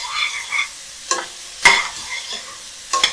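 Onions with black pepper being stirred in a frying pan: a soft sizzle under irregular scraping and clacking strokes of a utensil against the pan, close and fairly quiet, with no talking.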